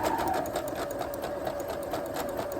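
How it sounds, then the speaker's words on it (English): A sewing machine runs a back stitch on a tulle-trimmed sock with a fast, steady, close mechanical whir and rapid needle ticking that continues without a break. "So we're going to sew a little bit. We're going to do a back stitch"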